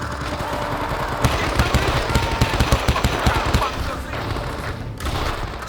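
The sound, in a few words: gunfire at the tree line in Men of Valor video game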